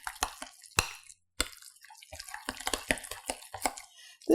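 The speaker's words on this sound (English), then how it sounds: "I'm just gonna put a little bit of water in these refried beans." Water is poured into a pan of refried beans, giving soft, scattered drips and splashes with a few sharper clicks of a spoon or pan, close and fairly quiet.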